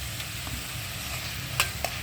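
Softened tomatoes and onions sizzle steadily in ghee in a pan for a black pepper chicken dish, with a constant close frying hiss and two brief clicks of a stirring spoon near the end.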